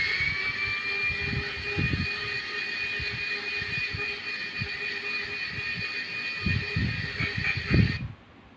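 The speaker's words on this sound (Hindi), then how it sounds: "अब इसको मैंने ग्राइंड करना है 4 से 5 मिनट के लिए।" A grinder runs on tamarind and plums for sharbat with a steady high whine and some low knocking thumps, then stops abruptly after about eight seconds.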